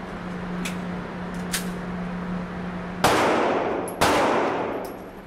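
Two sharp, loud gunshots fired at a bulletproof backpack panel during a live test, the first about three seconds in and the second a second later. Each shot rings out briefly before fading, over a steady low hum.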